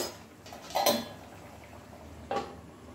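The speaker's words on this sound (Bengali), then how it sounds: "এই অবস্থায় আমি কড়াইটা ঢাকা দিয়ে 5 মিনিট রেখে দেব।" A metal lid set onto a wok of simmering paneer curry in green gravy gives two short, close clanks, a louder one first and a lighter one about a second and a half later, over quiet kitchen background.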